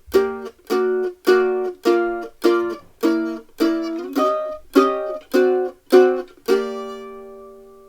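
A mandolin strums short, clipped quarter-note chord chunks in an even swing style, eleven steady stabs played alone and close, with the last chord left ringing.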